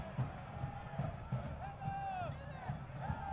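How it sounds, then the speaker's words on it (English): Crowd noise at a soccer stadium during a Louisville City FC vs Hartford Athletic match, heard as a steady, fairly distant hubbub of the crowd reacting, with faint raised voices and no clearly separate claps. "Crowd applauding that really impressive effort."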